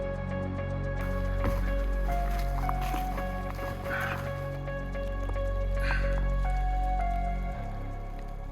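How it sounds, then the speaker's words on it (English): Rain dripping on an unmaintained forest trail in wet, cloudy weather near the Rogue River, with steady patter and scattered drops under a continuous low rumble, fairly close and moderately loud. "it hasn't stopped raining since yesterday at 5 a.m."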